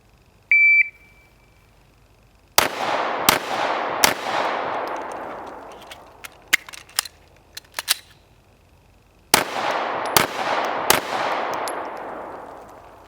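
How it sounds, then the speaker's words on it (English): Pistol shots crack loudly on a firing range during a timed drill, a quick string of three followed by a pause with small clicks and handling noises, then three more rapid shots, each with a long ringing decay. "conduct an emergency reload, and then fire 3 more rounds in 10 seconds"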